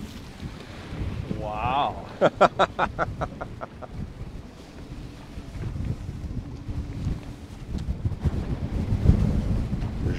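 A boat slapping into waves on Lake Sakakawea in strong wind, with steady wind buffeting and water rush throughout, a brief exclamation from a person early on.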